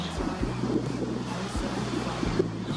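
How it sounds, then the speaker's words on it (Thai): Strong wind blows across the microphone at EOD beach in Sattahip, a steady low rumble and buffeting gusts with possible surf underneath, loud and continuous throughout. "ลมแรงมาก"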